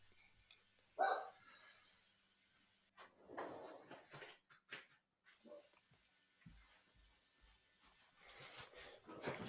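A stepdaughter's dog barks indoors in a few sharp bursts separated by quieter stretches of shuffling and faint room noise.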